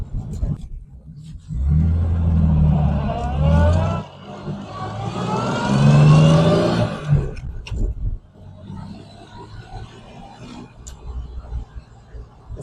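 A 1960 Jaguar XK150 with a 4-speed manual gearbox drives past, its engine swelling into two loud rising roars separated by a gear change, then settling to a lower, quieter idle-like rumble.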